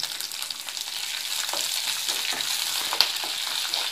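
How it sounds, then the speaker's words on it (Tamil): Onion sautéing with curry leaves, lentils and peanuts in a pan, making a steady bright hiss and crackle of frying, close, with one small clink of a utensil partway through. "லைட்டாக 1 நிமிஷம் நல்லா வதக்குங்க."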